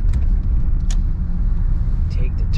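A Suzuki Wagon R automatic kei car driving on residential roads, heard from inside as a low, steady engine and road rumble with faint rattles and clicks, fairly loud and continuous.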